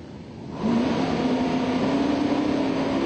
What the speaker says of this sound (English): This is that 557 cuber in the 74 Mustang 2.